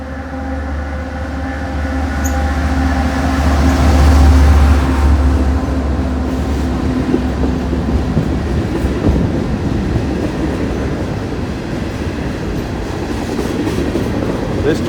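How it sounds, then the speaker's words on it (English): A loud CSX freight train of about 100 cars, a rock train, rumbles past close by, with deep engine drone giving way to continuous rattling and clattering of cars rolling along the track. "This train should have about 100 cars"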